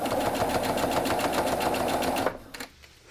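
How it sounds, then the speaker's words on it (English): A sewing machine stitches quilt binding strips corner to corner, a rapid, steady mechanical whirring up close that stops abruptly near the end, leaving a few faint clicks. "you're going to put them under the sewing machine, and you're going to sew from corner to corner straight across"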